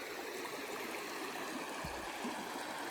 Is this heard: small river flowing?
yes